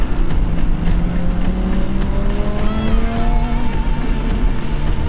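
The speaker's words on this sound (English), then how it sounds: "All of those notorious V10 pops that I've listened to online for years" A car with a big V10 engine sits outdoors, revving loudly and continuously close by, with rising engine tones and sharp crackling pops layered throughout.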